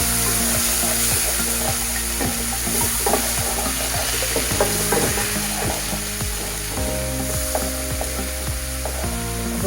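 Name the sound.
frying in oil for katla fish curry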